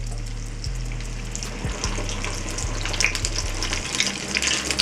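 Pieces of potato dough slide into hot frying oil, giving a continuous close bubbling sizzle that grows a bit livelier toward the end, with a low hum beneath it and no talk.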